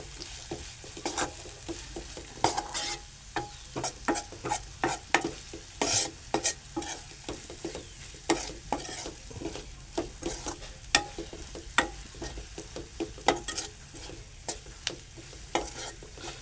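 Sliced onion and masala frying in a pan, crackling softly while a spoon stirs and scrapes in irregular bursts, close up with no voices.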